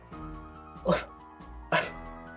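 A person imitates dog noises, two short, sharp barking yelps from a human voice, close and clear, separated by a brief pause over a faint background hum.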